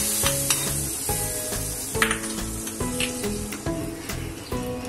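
Raisins and dry fruits fried in ghee are tipped into milk for rice kheer, giving a steady bubbling sizzle close by, with intermittent clinks and scrapes of stirring throughout.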